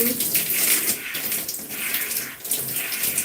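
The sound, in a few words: water rinsing shampoo out of hair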